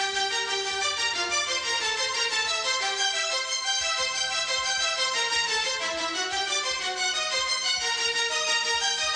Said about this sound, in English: When it comes to strings, again, nothing really fancy either. I decided to go for a more pattern-based pseudo arpeggio,